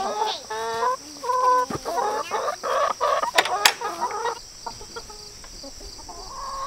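A flock of hens clucks near a new rooster, giving rapid, close, overlapping clucks and squawks that thin out into quieter scattered calls.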